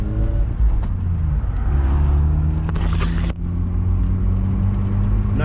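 A Mazda RX8, revived after sitting for years, drives along with a steady low engine drone and road rumble, a brief scraping rush partway through, heard from inside the car without speech.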